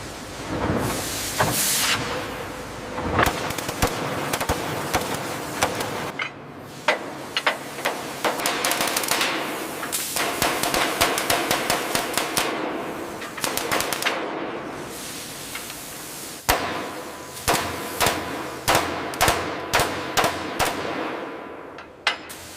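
Hot rivets are hammered into a truck ladder frame on a 1940s GMC factory line building WWII trucks, giving rapid, repeated sharp metallic strikes over a steady, busy industrial background.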